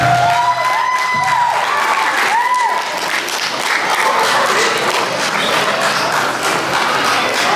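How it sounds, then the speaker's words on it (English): An event crowd bursts into loud, sustained applause with some cheering and whooping, dense clapping filling the room throughout while a few voices call out over it. "Let's give a big round of applause."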